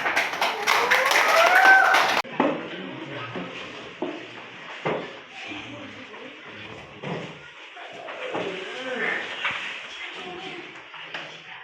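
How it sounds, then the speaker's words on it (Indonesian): Hands clap in a quick patter during a classroom teaching-practice lesson, a burst of rapid claps at the start before the room falls back to talking voices and scattered knocks. "Tepuk tangan."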